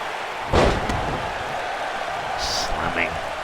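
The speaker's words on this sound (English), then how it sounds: "Slamming Hammer to the mat though" Wrestler thrown onto the mat in an indoor wrestling show, a single sharp thudding slam near the start over a steady roar of crowd noise, followed by fainter scattered crowd sounds.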